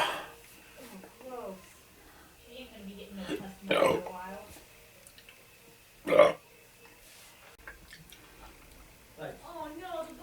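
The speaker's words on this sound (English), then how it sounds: "Gotta let all that belch air." A man belches during a Cinco de Mayo beer drinking session, giving two loud, short burps a few seconds apart amid his own sighs and quiet talk.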